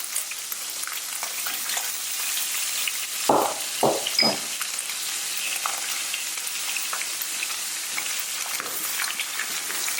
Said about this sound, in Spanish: Cuando ya el atún se ha frito un poquito en el aceite, junto a las olivas y a la alcaparra